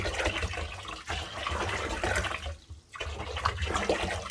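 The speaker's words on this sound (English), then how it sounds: "now I'm just going to add my bleach" Bleach pours into a sink of hot water while a denim vest is prepared for refashioning. There is a continuous loud, splashy water sound with one brief dip partway through.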